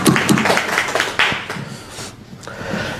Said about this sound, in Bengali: তার জন্য আমরা একটু সবাই হাততালি দেব।